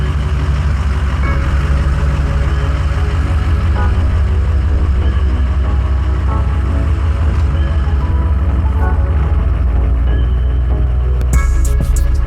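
A Ford pickup, an F-250 or F-150 with a cab under body repair, drives after sitting unused, its engine a steady low rumble that stays loud and continuous throughout, with no talking.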